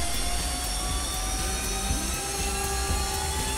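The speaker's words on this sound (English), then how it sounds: "Geed, what a fine aeroplane" A droning aircraft engine in the FlightGear flight simulator game, a constant whirring hum with steady tonal lines, moderately loud and unbroken, with no talking.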